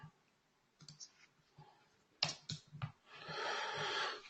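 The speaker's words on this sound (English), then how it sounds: "keyboard." Sparse, faint clicks and taps on a computer keyboard come in irregular bursts, followed by a short rustling, breathy noise, all heard close and quiet.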